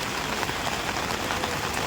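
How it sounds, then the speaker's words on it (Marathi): Heavy rain during a pre-dawn cloudburst in the Loha area, a dense continuous hiss of downpour drumming on surfaces, steady and fairly loud throughout, with no voices. "पहाटे अडीच तीनपासून पाऊस आहे"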